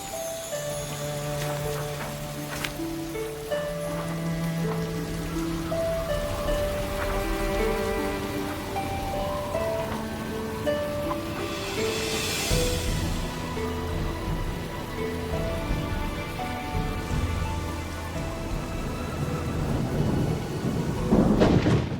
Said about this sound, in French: Est-ce que tu penses que ça va être une grosse tempête?